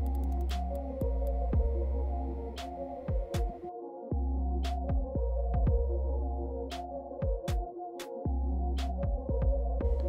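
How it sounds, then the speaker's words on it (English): Hair clippers drone close and steady during a fade haircut, a low tonal electric buzz with a throbbing pulse, broken by brief pauses and small clicks as the blade is opened or closed, with no talk. "I'm gonna go close with my clipper and open it as needed."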